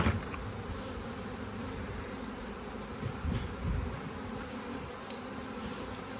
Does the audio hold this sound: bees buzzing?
yes